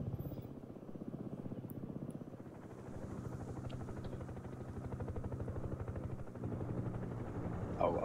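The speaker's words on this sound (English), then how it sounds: "I'll bring my helicopter just deployed" A helicopter deploys in the video game Broken Arrow, its rotor chop a steady rapid thumping under a low engine drone, moderately loud and continuous without talk.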